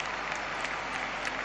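A basketball crowd in Madrid gives a substituted Real Madrid player an ovation during the game against Partizan, a steady, full wash of applause filling the arena for the whole moment.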